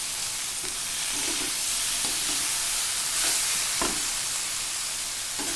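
Okra dropped into hot oil in a pan after a spice masala has been fried, giving a steady, loud sizzle and hiss with occasional stirring scrapes and no talking.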